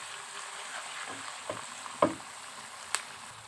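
Desi chicken fries with ginger paste in a pan, a soft continuous sizzle broken by a few sharp clinks and scrapes of a stirring spoon, with no talking.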